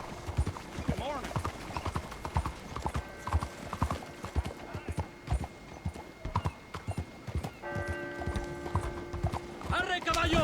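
Horse hooves clip-clop in Red Dead Redemption 2, a steady, close, rhythmic trot under game music and occasional mechanical clinks, with a voice speaking near the end.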